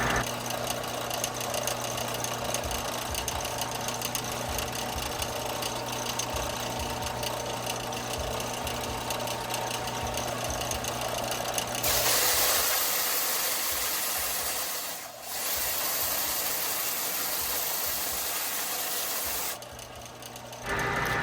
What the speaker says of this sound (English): I'm gonna hit this thing on the belt sander and make sure it's nice and flat so we don't have any exhaust leaks.